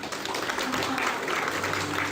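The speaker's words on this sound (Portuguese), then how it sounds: "vamos aplaudir eles?" A church congregation gives a short burst of applause for the translation team, a dense, steady patter of many hands filling the room for a couple of seconds.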